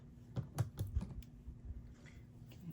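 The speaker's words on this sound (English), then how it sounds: "Let me see if I can cut the sticky dot in half here. I'm going to use my scissors" Scissors snip a sticky dot in half at a craft table, a few quick, sharp clicks and snips close by followed by quieter handling, with no talk.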